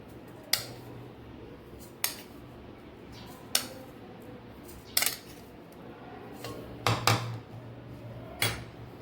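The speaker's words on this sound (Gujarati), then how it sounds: "તો એક બીજા વાસણની અંદર આ જે કટકી કેરી છે એને લઈ લેશું" Chopped raw green mango is scooped into another vessel, giving a series of about seven sharp metallic clinks and clatters of a spoon against the pot, spaced irregularly and close by.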